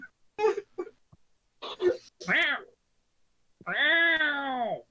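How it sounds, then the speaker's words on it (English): A cat meows several times in short bursts, finishing with one long drawn-out wail, loud and close in a quiet room. "I'm watching Will meow at me."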